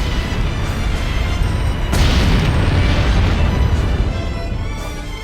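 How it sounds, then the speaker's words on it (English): Explosions from the Disgaea 4 video game roar as a dense, continuous rumble, with a sharper burst about two seconds in, loud and sustained throughout with no one talking. "It stopped. The explosions are over."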